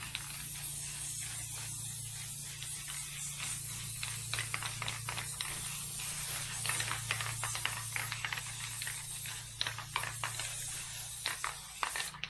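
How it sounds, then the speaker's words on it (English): Short bursts of aerosol spray finish hiss over wooden letter pieces, bright repeated sprays of varying length over a low steady hum, moderately close and fairly quiet. "All right, so I gave them a good spray."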